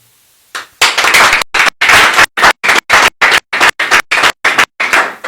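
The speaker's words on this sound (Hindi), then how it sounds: "ताली पीट रहे" A church congregation claps together in loud, rhythmic bursts, a long run of sharp, evenly spaced claps close by after a short silence, with no talking.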